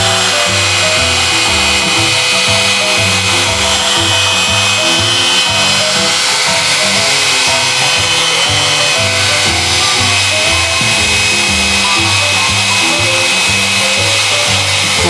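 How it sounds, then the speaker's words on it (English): A blow dryer roars steadily and close for the whole stretch as it dries a watercolor painting on sketch paper, a continuous loud whoosh with a faint fluttering pulse and no talk. "I'm going to shoot the blow dryer at it"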